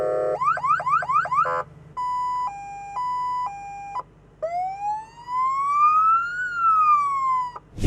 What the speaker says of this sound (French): vous choisirez les différents sons de sirène et de klaxon que vous pourrez activer en fonction des situations de conduite que vous rencontrez